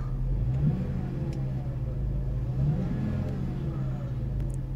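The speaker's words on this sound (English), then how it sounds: "Car revs real nicely." A 2001 Saab 9-3 turbo convertible engine revs steadily at close range, a continuous mid-low rumble with mild swells in pitch and no talk over it.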